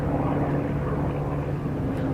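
An airplane's propeller engine roars in a brief, steady, loud drone as the plane dives, heard close and unbroken in an audio drama.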